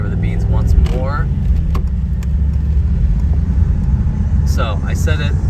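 Mercedes-AMG SL 55 engine and exhaust drone loud and steady while cruising on a highway, a low rumble from inside the cabin, with a person talking over it at the start and end.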